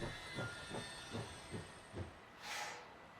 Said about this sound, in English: So what I can do is go ahead and stop the train.